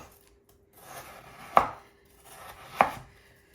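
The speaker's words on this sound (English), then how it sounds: "And I'm going to begin to chop this up. It's nice that it's somewhat frozen." A knife chops partly frozen fruit on a board for a three-ingredient sorbet, two sharp, loud, isolated thuds about a second apart, each with a brief crunch leading in, near and with no talking.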